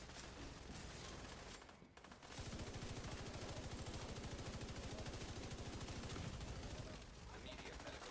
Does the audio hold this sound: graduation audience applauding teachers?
no